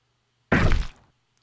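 A single short, loud thump used as a video game player-hit damage effect, a dull impact that decays within half a second into silence.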